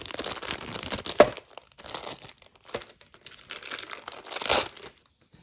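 Small colored paper envelopes are opened by hand, with close crinkling and tearing bursts in short separate spells and brief pauses between them.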